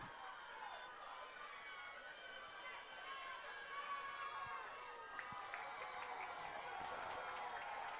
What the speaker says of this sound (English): Middle Township crowd coming alive now.